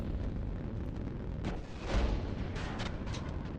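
A warship's gun fires in Nebulous Fleet Command, giving a couple of muffled, fairly quiet booms over a steady low rumble of battle ambience.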